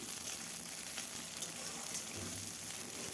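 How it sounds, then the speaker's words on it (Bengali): Black cumin seeds, garlic, green chili and onion frying in hot mustard oil in a kadai, a soft, steady sizzle with faint crackles, fairly quiet and even throughout. "সরিষার তেল দিয়ে দিলাম, কালো জিরে 1 চামচ, রসুন, কাঁচা লঙ্কা, পেঁয়াজ ভালো করে ভেজে নেব"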